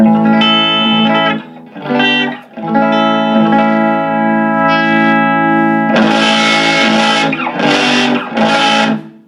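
A guitar amplifier driven into heavy distortion at high volume, sustained chords first, then a harsh, crunchy burst and a few choppy strums, loud and close with no talk.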